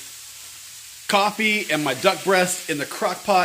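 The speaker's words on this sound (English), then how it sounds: "You can hear my lunch sizzling behind me." Chicken breasts sizzling as they sauté in a pan, a soft steady frying hiss running low under someone talking close by.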